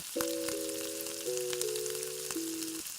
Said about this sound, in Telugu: బ్రెడ్ తీసుకొని ఆ పిండిలో ముంచి ఆయిల్ హీట్ అయ్యాక అందులో వేసుకొని బాగా ఫ్రై చేసుకోవాలి